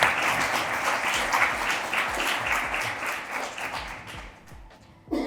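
Audience applauding the speakers at an entrepreneurship talk, dense sustained clapping from a room full of people that thins and fades toward the end before a final sharp sound.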